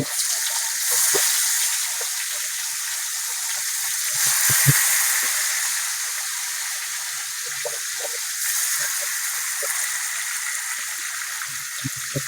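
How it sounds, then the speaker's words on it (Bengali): Fish sliding into hot oil for a home-style Pohela Boishakh frying session, giving a steady, fairly loud hiss and crackle of sizzling that swells at a few points and runs the whole stretch with no voices. "তেলটা গরম হয়ে গেছে, এখন আমরা মাছগুলো দিয়ে দিব"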